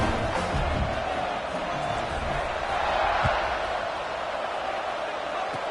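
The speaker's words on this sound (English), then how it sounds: "this crowd is buzzing after that last score" Stadium crowd at a college football game buzzing with a steady, dense roar after a score, continuous and distant-sounding throughout, with no clear individual voices.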